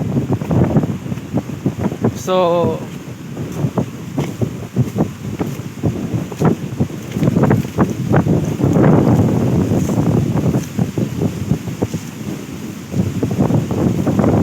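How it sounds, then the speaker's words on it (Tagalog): Strong wind buffets the microphone at sea off Burias Island, with rough waves slapping and rushing constantly and loudly, while someone talks briefly and a short whistle-like tone rises early on. "malakas ang alon dito sa Burias Island"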